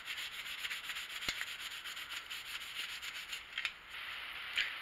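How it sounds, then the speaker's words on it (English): A cloth soaked in solvent rubs along an antler knife handle to lift off glue, a soft, steady scrubbing swish repeated in quick strokes, close and quiet. "We're gonna start with wiping it down with some solvent."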